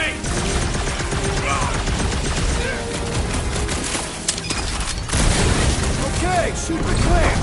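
Rapid gunfire from a Guardians of the Galaxy video game as shots hit cold-rolled iridium clamps, dense and continuous bursts layered over game music and effects, with a voice speaking.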